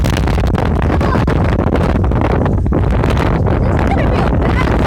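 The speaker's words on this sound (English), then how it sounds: "This wind is so strong, it's literally pushing me." A strong outdoor wind storm roars and buffets the microphone loudly and continuously, a dense rushing blast that never lets up.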